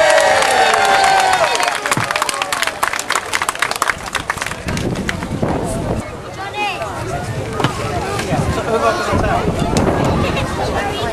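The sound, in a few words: crowd cheering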